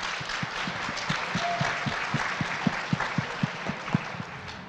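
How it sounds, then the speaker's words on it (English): Applause from an audience at an annual awards ceremony, a steady wash of many hands clapping with a few louder individual claps standing out, moderately distant and continuous. "give them one more round of applause"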